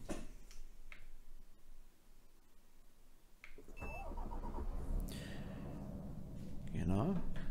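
DAF XF 105 truck in Euro Truck Simulator 2 cranking and starting, its diesel catching midway and settling into a steady low idle, with a faint ticking beforehand and a voice talking over it.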